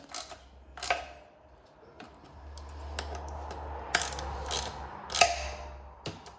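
A tool tightens the mount bolts on a bicycle disc brake caliper, giving a few faint, sharp metallic clicks and ratchet ticks spread over a quiet room background.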